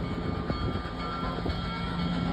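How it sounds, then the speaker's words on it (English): A train passing on railroad track, heard as a steady loud rumbling roar with a couple of faint clicks from the wheels, continuous throughout. "Let's enjoy this railroad footage from William."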